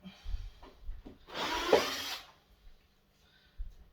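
A power drill whirs in one burst of about a second while unscrewing parts during the teardown of a tumble dryer for scrap, with quiet clicks and knocks before and after.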